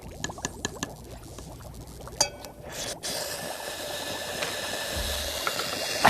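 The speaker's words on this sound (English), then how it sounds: "watch what happens when we put just a small piece of sodium in water" A small piece of sodium reacts in water with a steady fizzing, bubbling hiss that swells after a few sharp clicks, holding loud and close to the end.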